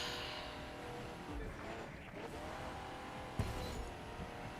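An EV110 Anodized Edition car driving in a racing video game gives a faint, steady engine drone with a few brief tire or impact noises, heard alone.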